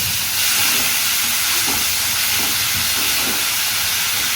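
Pointed gourd frying under a lid in a pan gives off a steady, even sizzle and hiss that holds close and constant throughout.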